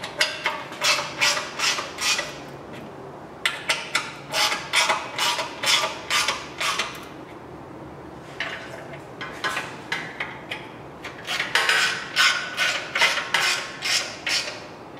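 Ratchet wrench snugging the transmission shield bolts on a Chevrolet 454 big block, a run of quick clicking bursts in rhythmic groups with short pauses between, close and fairly loud, no talking.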